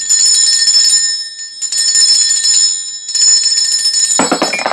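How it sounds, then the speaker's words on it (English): A handheld bell is rung to cleanse the space in three bright, sustained bursts separated by short gaps, loud and close, with a clattering knock at the very end. "I'm going to be ringing this bell just to cleanse the space around us"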